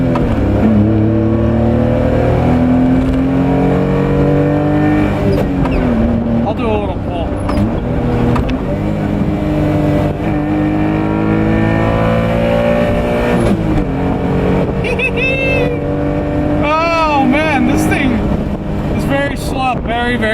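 A 1991 Honda Beat driving, its small engine droning steadily throughout with shifting pitch as it pulls along, and a voice talking over it most of the time.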